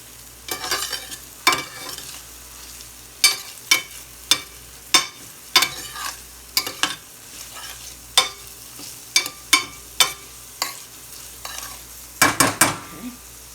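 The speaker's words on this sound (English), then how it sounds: "I'll give it one more stir because I don't want the garlic to start burning." Garlic frying in a pan, stirred with a spoon: a soft background sizzle broken by a dozen or so sharp scraping strokes at uneven intervals, ending in a quick flurry of stirs, no talk.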